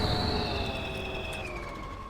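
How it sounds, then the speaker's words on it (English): A truck winch in the off-road mud game Spintires whines as it pulls a stuck vehicle out of the muck, with steady tones that slowly slide downward over a constant rumble. "I'm going to be able to hook my winch onto him, pull him out of this muck"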